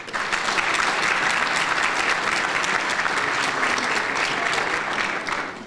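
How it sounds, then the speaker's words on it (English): An audience at a chamber of commerce awards dinner gives a loud, sustained round of applause, dense clapping that holds steady for about five seconds before tapering slightly at the end. "So please give them a round of applause."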